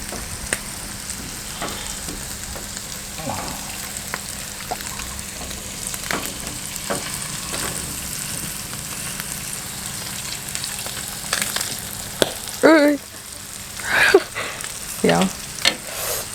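Pork sizzles steadily on a Thai tabletop grill with a constant crackling hiss, joined near the end by a few clinks and scraping sounds.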